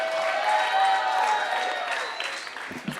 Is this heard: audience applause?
yes